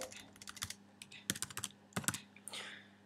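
Someone types a password on a computer keyboard while setting up Windows 7 in VirtualBox on a Mac, producing irregular clusters of close, crisp key clicks with short pauses between bursts, faint and alone.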